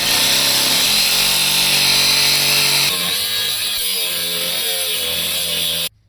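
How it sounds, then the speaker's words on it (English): Sawzall reciprocating saw slicing through an old bolt on a Ford Excursion, a loud, steady buzzing cut that drops in pitch partway through and then stops abruptly near the end. "I gotta get a Sawzall blade in the side there and slice it off"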